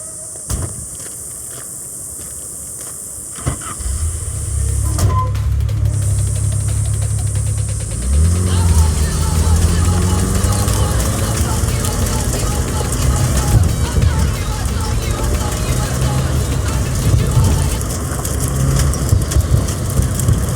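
A car driven in the video game Cyberpunk 2077 sets off with a sudden low engine rumble, then a steady drone that rises and varies as it moves, with voices talking over it throughout.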